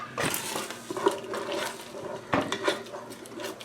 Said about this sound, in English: stir this up some